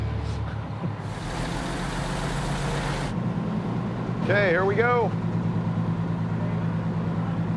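A forklift engine idles with a steady low rumble throughout, joined briefly by a hissing burst and someone speaking over it.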